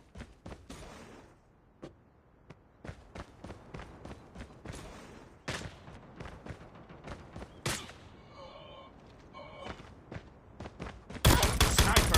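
Gunfire in a shooting video game during a bomb mission, scattered bursts and single shots at moderate distance with footsteps between, ending in a loud, dense burst of fire.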